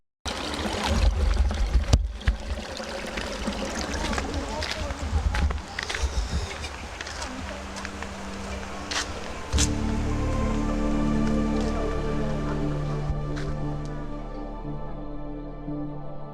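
Water at Bonda Waterfall near Guwahati rushes and splashes in a dense, steady wash, with voices talking over it and a lower, smoother flow toward the end.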